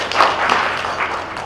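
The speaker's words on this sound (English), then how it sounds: "Let's clap for him." Brief burst of audience clapping at a county stakeholder investment forum in Kitui, a dense wash of hands close by and fairly loud for its whole short length.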